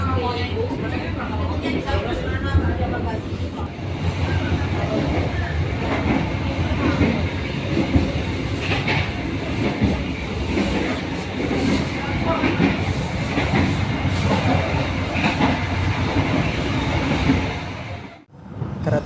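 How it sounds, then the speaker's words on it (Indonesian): Pandalungan passenger train running on rails at night, a continuous loud interior rumble with rhythmic clatter of wheels over track joints, and murmuring voices beneath it. "Kereta api Pandalungan."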